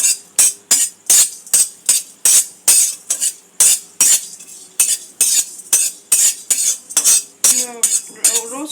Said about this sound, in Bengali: এটা ড্রাই রোস্ট করে একটা পাউডার বানিয়ে নেব আমি।